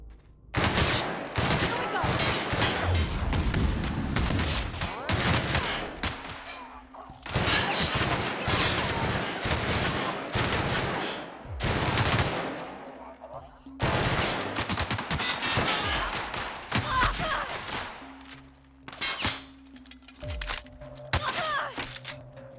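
Gunfire in The Outer Worlds comes in dense bursts of rapid shots separated by brief lulls, loud and close, with occasional thuds and groans between volleys.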